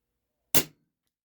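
A single sharp crack from a Cybergun Taurus PT24/7 G2 airsoft pistol firing a 0.25 gram BB, close and loud, standing alone against silence.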